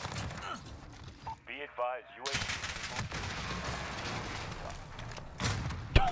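Rapid submachine gun bursts from a new DLC SMG in the video game Modern Warfare, sharp dense gunfire layered with other game effects and a player talking over much of it.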